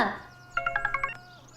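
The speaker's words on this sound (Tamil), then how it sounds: "ஃபோன். அட்டெண்ட் பண்ணுங்க." A telephone rings in a short burst of rapid electronic trills, about six quick pulses in a row, moderately loud in an otherwise quiet indoor room.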